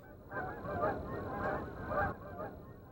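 A flock of geese honks continuously at a moderate distance, their calls overlapping in a noisy, rhythmic chorus.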